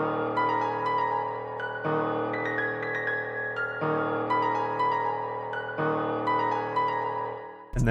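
A dark melodic sample top line made in FL Studio, drenched in added reverb and delay, loops a sustained phrase roughly every two seconds at steady volume with no voices.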